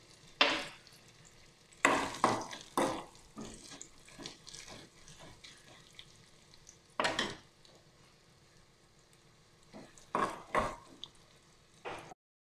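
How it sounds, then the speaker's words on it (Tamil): Cashew nuts frying in a pan, with bursts of loud scraping stirs and sizzling between quieter stretches of low frying hiss, close up and without talking. "நல்லா பொரியட்டும். இப்போ இதோடவே நம்ம எடுத்து வச்சுருந்த முந்திரி பருப்பு,"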